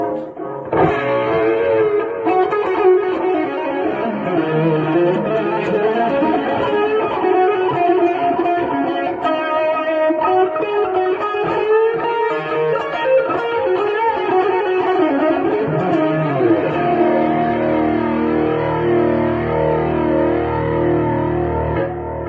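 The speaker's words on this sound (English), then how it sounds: "in a similar way you can add different delay settings as well as reverb settings" Guitar played through a Sonicake multi-effects pedal with delay and reverb settings, a continuous distorted, echoing stream of notes lasting the whole stretch at steady loudness before the last chord trails off.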